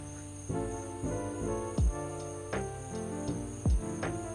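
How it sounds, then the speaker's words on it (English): Crickets chirping steadily outdoors at night, a constant high trill in the background with soft plucked guitar-like notes and a couple of low thumps over it, no speech. "if you hear these crickets"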